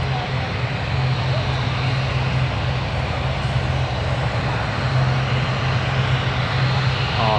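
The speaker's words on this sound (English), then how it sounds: "It looks like the other airliners ATR is going to touch down first before this one obviously departs." A turboprop ATR airliner on its landing run at Newcastle Airport, a steady, loud broadband engine roar with a sustained low propeller drone that holds throughout, without clear rises or fades.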